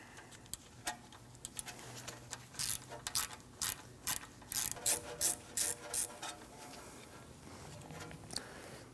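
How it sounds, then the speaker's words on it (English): Ratchet with a 1/4-inch socket and extension working a rusty bolt on a 2009-2017 Audi Q5 rear wheel speed sensor: close, loud, rhythmic bursts of clicking pawl, about a dozen strokes in quick succession. "I'll be using a 1/4-inch socket, an extension, and a ratchet."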